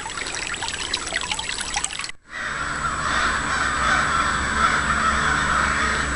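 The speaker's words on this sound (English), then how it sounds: "You guys hear the crows?" Crows caw repeatedly at a distance over a steady trickle of flowing water, with a brief gap before the stream noise continues.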